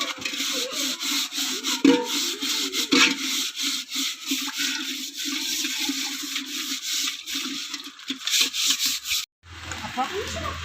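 Cooking pots, including a pressure cooker and rice cooker, scrubbed and washed in a Kerala village kitchen: steady rough rubbing strokes with occasional knocks and splashes, fairly close.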